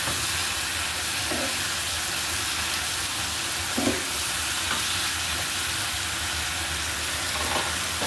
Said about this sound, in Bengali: এখন মনে হলো এটার সাথেই কিন্তু হালকা ভেজে নিয়ে ব্লেন্ড করে ফেললেই ভালো হবে।